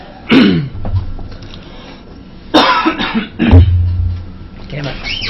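Several harsh coughs and throat-clearing bursts from a person close to the microphone during a live gaming stream, irregularly spaced over a few seconds with background chatter and low hum.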